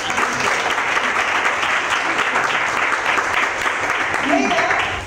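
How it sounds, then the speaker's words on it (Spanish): An audience at a gala claps in continuous, dense applause lasting several seconds. A few voices rise faintly beneath the clapping. "le damos un aplauso"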